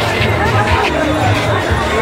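A dense, jammed crowd at the Sonpur fair in 2023 fills the air with a continuous close babble of many voices and general hubbub.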